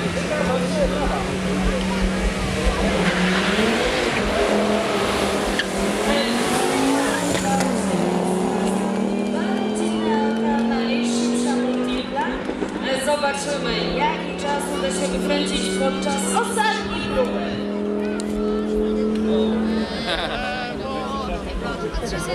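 Tuned 220 hp Fiat Multipla race car driving hard on a track, engine revving and shifting through rising tones, with a crowd and talk underneath.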